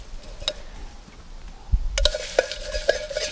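A camping pot scrubbed with dry dirt, gritty scraping and rattling of metal, quiet at first then louder and denser with sharp clinks, close by and without talk.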